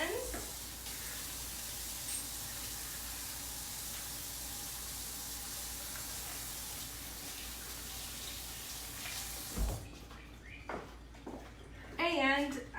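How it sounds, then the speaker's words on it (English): Hands are washed under a running tap in a home kitchen, a steady rushing hiss for about ten seconds, then the water stops and quieter handling sounds and a voice follow. "Let me wash my hands."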